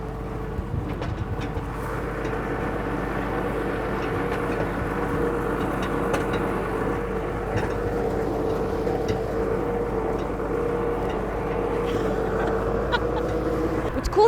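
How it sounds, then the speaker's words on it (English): A farm tractor with big tires pulls a hayride, riders standing on a large wooden pallet. Its engine gives a steady, unbroken low rumble close by, with no clear talk over it. "What's cool about hay rides is that we actually see a tractor run."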